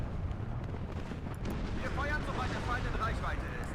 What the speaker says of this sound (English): They sending the artillery trying to get our Milan one